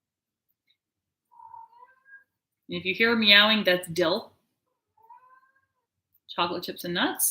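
A house cat gives a few faint, short meows in the quiet gaps of a home cooking session, while a person talks nearby between the calls.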